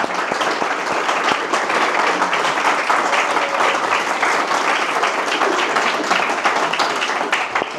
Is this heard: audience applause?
yes